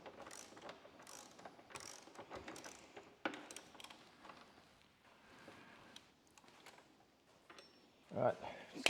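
A ratchet wrench works a 15 mm nut off a Ducati Desert X frame bolt, with irregular bursts of fine clicking close by, pausing between strokes, while a person talks intermittently.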